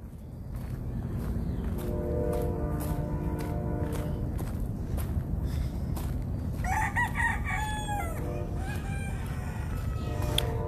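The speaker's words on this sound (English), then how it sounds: "Well, cock-a-doodle-doo to you too" A rooster on a farm crows once in the middle, a clear rising call over steady outdoor noise, with scattered clucks and footsteps around it.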